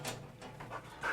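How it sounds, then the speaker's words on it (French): A gendarmerie dog trained to detect hidden banknotes pants in quick, soft breaths while sniffing, close by and fairly quiet. "Ce chien est spécialement entraîné par les gendarmes à détecter les billets cachés"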